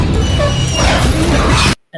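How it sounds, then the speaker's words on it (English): Mangle, an animatronic in a FNAF 2 reboot video game, letting out harsh, distorted barking and yipping mixed with mechanical crashing, loud and close for almost two seconds before cutting off abruptly. "Why was Mangle barking?"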